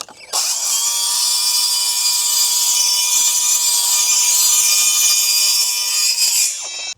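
Milwaukee Gen 2 rear handle circular saw 2930-21HD with a thin kerf blade cutting wood, a loud, sustained high-pitched whine that starts abruptly, holds steady for about six seconds, then winds down.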